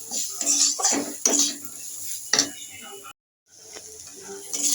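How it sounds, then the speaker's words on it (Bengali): Maggi masala is stirred in a pan with a few clinks and scrapes of a metal utensil against the cookware over a faint sizzle, with a brief silent gap near the end. "মশলাটা ভালো করে আমি নাড়াচাড়া করে নিয়েছি"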